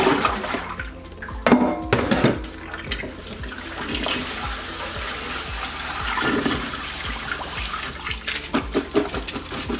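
Strawberries being washed in vinegar water in a sink, with running tap water and splashing, sloshing sounds, uneven and fairly close, with no talk.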